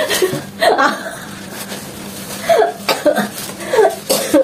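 Several short, harsh coughs in bursts, with brief pauses between them, close to the microphone.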